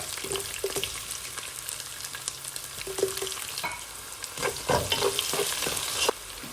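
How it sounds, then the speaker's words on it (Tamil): Cut garlic pieces frying in a pan, an uneven crackling sizzle with repeated stirring scrapes and small pops, close-up and moderately loud, busiest toward the end. "துண்டுகளாக வெட்டி வச்ச வெள்ளைப்பூடு, அதில் கூட கொஞ்சம் பொரிஞ்சு மட்டும் வெயிட் பண்ணுங்க"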